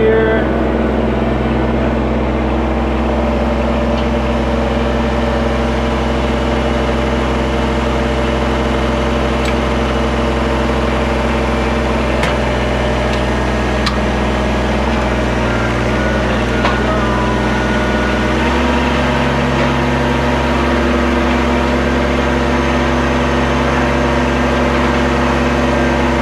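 Tractor engine idling with a steady, loud low rumble while the tiller is hitched on the three-point hitch at the back, with faint metallic clicks and a slight shift in engine pitch partway through.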